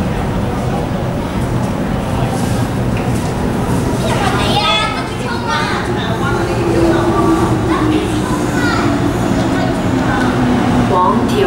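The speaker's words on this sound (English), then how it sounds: "The train to Tilking Lane is arriving." An MTR Kwun Tong line train rumbles loudly into Yau Tong station, a low continuous roar with rising squeals, while children's voices chatter nearby.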